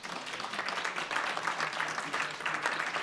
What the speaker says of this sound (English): Let's give Bishop Barber a round of applause